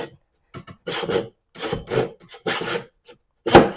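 A saw cuts into a kitchen countertop in close, rough rasping strokes that come in irregular bursts separated by short pauses, with no talking.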